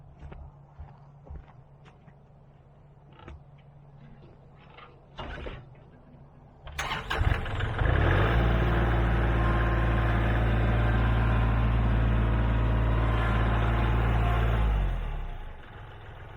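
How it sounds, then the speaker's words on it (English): A tractor engine turns over after a few quiet footsteps and knocks, catching with a sudden loud start and then running at a steady, heavy idle before cutting off near the end. "Okay, gonna move my tractor out of the way."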